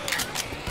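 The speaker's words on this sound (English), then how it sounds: "Hey, I'm reloading." A weapon being reloaded in a video game: a brief flurry of quiet mechanical clicks and rattles, lasting under a second.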